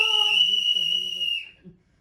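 A toy whistle from a village fair gives a steady, shrill, clear tone for over a second, loud and close, then a few faint low voice-like sounds trail off.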